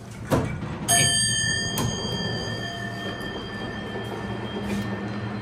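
A Westinghouse AE hydraulic garage elevator sounds its arrival chime, a bright ringing ding near one second that sustains and slowly decays, with a softer second strike shortly after over steady machinery hum.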